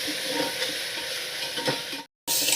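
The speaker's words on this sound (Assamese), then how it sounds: "তেলত ভালদৰে অলপ লৰাই লৈছোঁ" Pulao rice is stirred with sugar in hot oil, a near, steady sizzle with scraping strokes that breaks off in a brief gap of silence before resuming.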